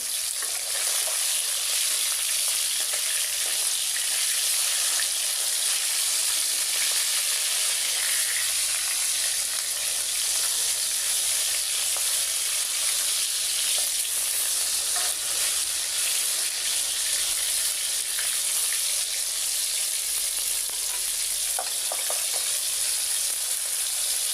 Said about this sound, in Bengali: তো আমি এখন পাঙাশ মাছ রান্না করছি রাখছে এই যে পাঙাশ আমি ভেজে নিচ্ছি